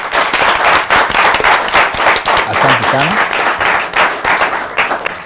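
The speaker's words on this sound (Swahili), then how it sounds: "Makofi ya guest wetu" A studio audience claps loudly and densely for a guest, sustained applause with sharp individual claps, and a voice speaks briefly over it.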